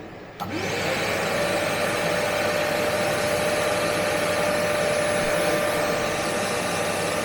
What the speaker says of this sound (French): Je vais allumer mon aspirateur